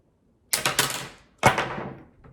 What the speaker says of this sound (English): So I'm gonna take my first snip and I'll take a second one.